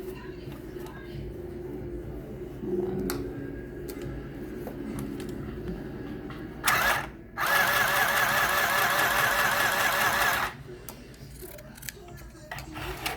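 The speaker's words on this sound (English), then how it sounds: "I'm going to sew it over again just to secure the stitching." A sewing machine stitches back over a fabric tote bag strap, a loud steady whirring burst of about three seconds following quieter handling noises and a brief start, with no one talking.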